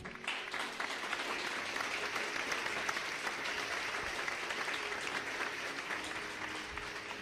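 Church congregation applauding during a Spanish-language sermon, steady dense clapping that holds at an even level for the full stretch with no talk over it.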